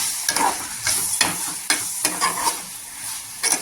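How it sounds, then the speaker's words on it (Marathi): Green tomato curry with coriander sautéing in a pan, giving a loud, close sizzle of frying with regular stirring scrapes throughout. "कोथिंबीर टाकल्यानंतर छान असं परतून घ्यायची"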